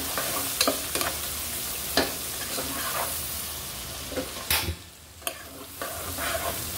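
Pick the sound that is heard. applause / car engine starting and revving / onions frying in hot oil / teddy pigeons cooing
onions frying in hot oil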